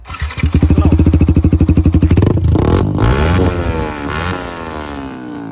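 A Yamaha R15 V4 motorcycle engine revs hard and close, with rapid pulsing throttle blips giving way to a sustained loud roar that slowly settles toward idle.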